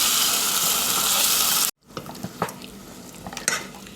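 Chicken stir-fried in olive oil in a pan, a steady loud sizzle that cuts off abruptly, followed by scattered scraping and clinking of a utensil against the pan.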